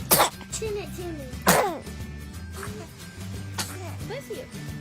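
Baby sneezing, two abrupt close bursts a little over a second apart, followed by an adult voice and soft baby vocal sounds nearby.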